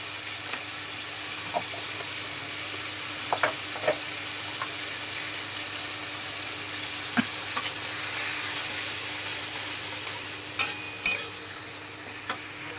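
Ground coriander and cumin paste fries in a pan with a steady, soft sizzle and hiss, broken by scattered clicks and scrapes of stirring. No voice is heard.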